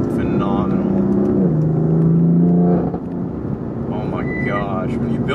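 A Ferrari F8 with a secondary cat delete and MPE exhaust holds a loud, steady engine drone that dips as the throttle comes off under braking, followed by lighter revving and whirring. It sounds close and continuous, with no talk over it.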